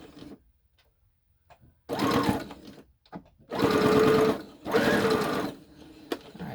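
A sewing machine runs a double stitch in three bursts of close, steady whirring, the last two longest, with quiet pauses and faint handling clicks in between.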